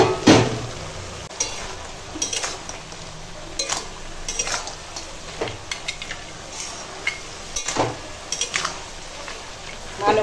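Finely chopped greens fry in a pan, with a soft sizzle under a series of irregular spatula scrapes and metallic clinks against the pan. The stirring sounds close and fairly loud, and no one talks.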